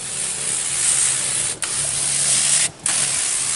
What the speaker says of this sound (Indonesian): Ini kita kocor dengan kita semprot